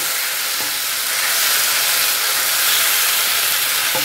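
Chicken sautéing in a pan sizzles loudly and steadily, a dense close hiss with occasional faint scrapes of stirring.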